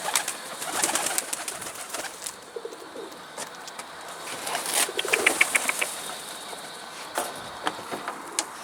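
Pigeons fly overhead outdoors, with scattered wing flaps and soft calls rising in short bursts over a faint background hum, and no voices.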